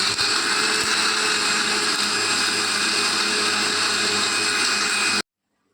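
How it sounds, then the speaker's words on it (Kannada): A mixer grinder whirs loudly and steadily for about five seconds, grinding spices for vegetable kurma, then cuts off abruptly into silence. "ಇದೆಲ್ಲ ಒಟ್ಟಿಗೆ ಈಗ ಗ್ರೈಂಡ್ ಮಾಡುವ."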